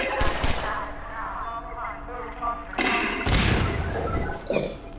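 Turret gunfire in Half-Life 2: rapid bursts of automatic shots with heavy thumping impacts, loud and close, in several clusters over game background noise, with no talk.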